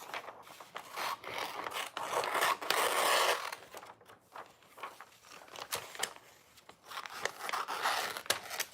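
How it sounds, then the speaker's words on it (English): Scissors snip and crinkle through the thick pages of a big magazine for a collage, giving a close run of papery crunching and tearing bursts with brief pauses between cuts. "it's really hard to do this with scissors."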